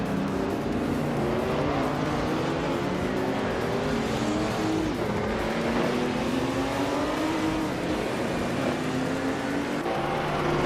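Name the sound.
race car engines in a racing video game, 1975 BMW CS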